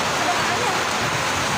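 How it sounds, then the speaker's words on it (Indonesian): Heavy rain pours steadily, a dense continuous hiss of water on surfaces filling the short stretch without pause. "Ini hujan gede, udah dulu ya, hujan."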